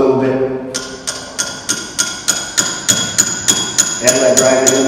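Hammer blows drive a piece into a small drilled hole in wood at a forge, a steady series of about a dozen sharp ringing strikes at a quick even rhythm, loud and close over a low background hum.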